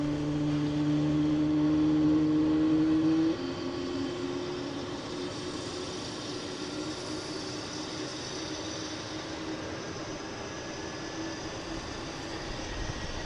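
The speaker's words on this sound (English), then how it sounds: "Alaskan Airlines here spooling up in the alley" An Alaska Airlines jet arriving from LAX sits in the alley at Boston Logan with its engines spooling up: a steady turbine whine and hum, a little louder at first, then settling into a sustained drone.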